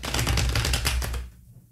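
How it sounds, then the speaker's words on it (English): A deck of stiff tarot cards riffled in one quick, dense burst of flapping clicks up close, ending in a soft settle and near-silence. "That was a pretty good shuffle."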